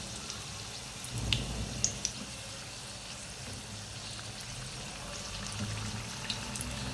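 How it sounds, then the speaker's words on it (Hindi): Qeema rolls frying crisp in oil on a low flame, a soft, steady sizzle with faint pops and crackles, quiet and close, with no talking. "हल्की आंच पे मैं इसको फ्राई कर रही हूँ ताकि ये अच्छे से क्रिस्पी से बने।"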